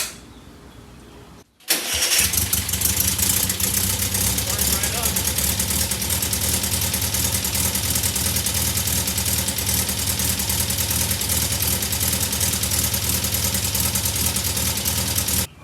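A VW Beetle engine, freshly tuned up, cranks briefly after a quiet moment, then catches and settles into a loud, steady, rumbling idle that carries on for the rest of the recording.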